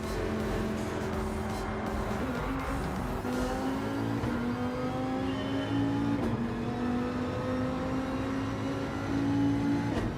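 A car engine revs in Gran Turismo 7, played in VR, rising steadily in pitch as it accelerates through gears, loud and continuous, with no talking.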